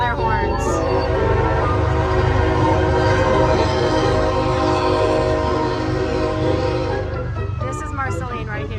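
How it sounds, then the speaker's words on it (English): A train rolls past in a small-town setting, sounding its horn in long sustained blasts over a continuous rumble, fairly close and loud, with the horn cutting off near the end. "there's a train coming right now in the back. They come through 7 times a day and blow their horns."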